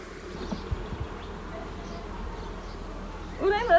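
Bees buzzing around an open beehive during hive cleaning, a soft steady drone close by with a few faint clicks, and a voice briefly speaking near the end.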